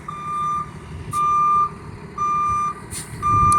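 A school bus gives its reversing alarm while backing up, a loud, steady beep that repeats about four times at even intervals, with engine rumble underneath.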